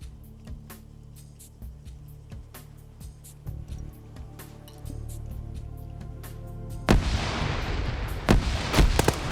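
Grenade explosions and gunfire in an Arma 3 PvP tournament match: scattered sharp reports and thuds, then a heavy, dense burst of blasts in the final seconds, with no talk.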